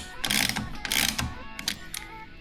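Rapid clicking bursts of a ratchet loosening the axle bolts on a 2017 Polaris Axys PRO-RMK 800 snowmobile, several close ratcheting strokes with short pauses between them.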